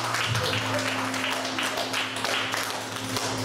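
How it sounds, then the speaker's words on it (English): A small audience claps at the opening of a show in a shop-like venue, a moderate wash of applause with a steady low hum beneath and some voices mixed in. "Give yourselves a round of applause"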